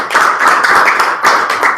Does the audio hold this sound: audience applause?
yes